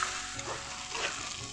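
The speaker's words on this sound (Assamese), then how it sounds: "বিলাহীখিনি গলি যোৱালৈকে ভালকৈ ভাজি ল'ম" Tomatoes and onions sizzle steadily in hot oil with salt and turmeric, a continuous close frying hiss with light stirring, no voices.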